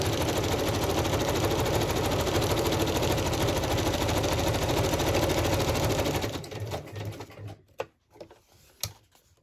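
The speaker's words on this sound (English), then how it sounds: "And I think I will zigzag now." A sewing machine zigzag stitching runs steadily at a fast, even rhythm for about six seconds, then slows and stops, followed by a few light clicks and handling noises.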